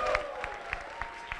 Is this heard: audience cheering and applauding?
yes